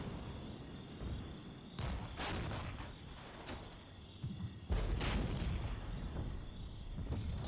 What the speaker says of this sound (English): Another artillery strike there.